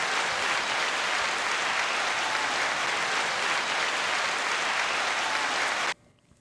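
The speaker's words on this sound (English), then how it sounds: "Kai, 9-second applause" A studio audience applauds steadily, a dense, loud wash of clapping that holds evenly for about six seconds and then stops abruptly.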